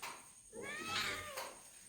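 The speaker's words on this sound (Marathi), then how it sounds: "बबली आमचा मांजरा खेळ पाहता" A cat gives one drawn-out meow close by, rising and then falling, with nothing else going on around it.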